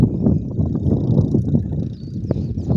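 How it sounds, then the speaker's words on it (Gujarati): A tractor engine runs on a farm field ahead of sowing, a loud steady low rumble that continues throughout with slight wavering, heard close up. "જો આપણે ટ્રેક્ટર હાલે છે સરસ મજાનું."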